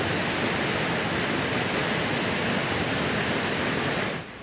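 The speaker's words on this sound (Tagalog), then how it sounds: "makita sab ang kusog nga sulog sa tubig" Strong floodwater current rushes through a residential subdivision, a loud, steady broadband roar that holds continuously and then drops off abruptly at the very end.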